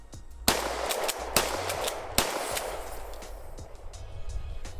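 A Safety Harbor Firearms KEG410 shotgun with a vertical foregrip fires several loud booming shots at an outdoor range, spaced about a second apart, each followed by echo and rumbling wind noise.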